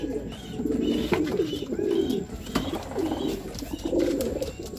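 Racing pigeon cooing at the loft after arriving home from a 55 km race, repeated soft throaty coos close by, with faint chirps of other birds in the background.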